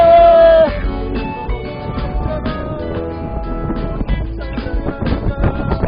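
Strong seaside wind at Port Melbourne pushes steady low rumble and buffeting through the microphone. Strong tonal and harmonic layers ride on top the whole time, so the gusts are partly masked.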